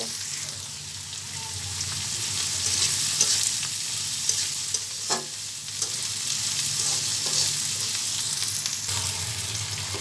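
Chopped onion is stirred and fried with chicken in a pan, giving a continuous close sizzle with occasional faint spatula knocks. No one speaks.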